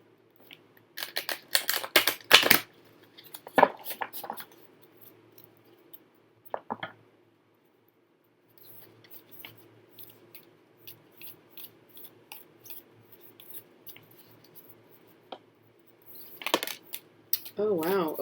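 Bursts of crisp riffling and flicking as a deck of cards is shuffled, several quick clusters separated by quieter pauses and light handling.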